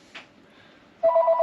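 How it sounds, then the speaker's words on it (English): A telephone rings indoors at moderate distance, an electronic trill starting after a second of near silence, following a faint earlier noise. "Telephone's ringing."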